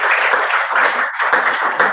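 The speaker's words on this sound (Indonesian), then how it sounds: "Kita beri tepuk tangan dulu." An audience claps steadily for about two seconds in a classroom setting, dense and fairly loud with a brief dip midway, no talking over it.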